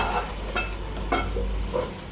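Onion frying in oil for tehari sizzles steadily in a pan, with a few spatula scrapes and stirs at intervals, close and fairly loud.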